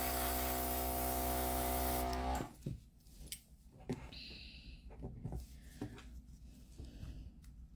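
Airbrush spraying One Air acrylic paint in a loud, steady hiss for about two seconds, then cutting off to quiet handling clicks and rustles.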